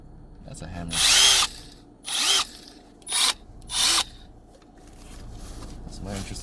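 Milwaukee hammer drill fired in four short bursts, the first about a second long and the rest briefer, loud and close with quiet gaps between, a voice briefly heard in the pauses.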